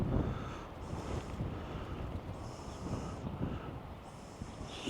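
Strong wind buffeting a microphone on the Hornsea coast, a low continuous roar with gusty rumbles, fairly faint and steady with no voices.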